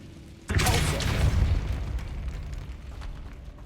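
A Repulsor spell cast in Hogwarts Legacy bursts out as a sudden loud boom that rolls into a rumbling blast, then slowly fades over a few seconds.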